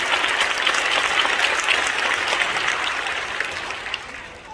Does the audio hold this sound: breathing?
no